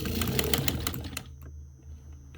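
A Wilson Rotary sewing machine runs with a rapid, even clatter of stitching for about a second, then stops abruptly, leaving a faint hum and a few soft knocks.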